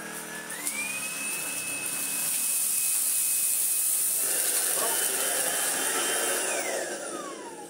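A Tineco cordless vacuum cleaner runs on max power, a loud close high-pitched whine that ramps up at the start and shifts pitch midway, with a steady airy hiss throughout.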